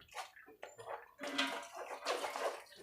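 Water poured into a falsa fruit juice mixture during sharbat preparation, a soft splashing pour that swells and continues steadily at close range, with no talking.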